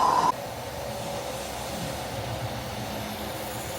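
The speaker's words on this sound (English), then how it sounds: "There goes the ghost train." A ghost train amusement ride rumbles past at a steady moderate distance, a continuous low mechanical roll following a short sharp tone at the start.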